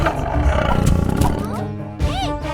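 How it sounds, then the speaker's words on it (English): A cartoon saber-toothed tiger gives a loud, close, growling roar that rises and then falls away, with a second short snarl near the end. There is no talk. "A saber-toothed tiger leaps from the thick bushes,"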